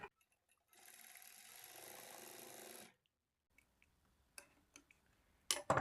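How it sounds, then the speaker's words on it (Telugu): Sewing machine stitching cloth piping runs in a single quiet burst of about two seconds of rapid needle chatter, followed by near silence broken by a few faint clicks and handling knocks. "ఈ కార్నర్ దగ్గర నుంచి స్టార్ట్ చేసుకొని ఈ కార్నర్ దగ్గరికి క్రాస్గా ఒక స్టిచ్ వేసుకోవాలి"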